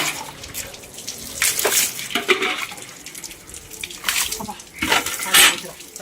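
Water pours and splashes over a person like a waterfall during a summer bath, in uneven gushes and splashes nearby, with voices mixed in.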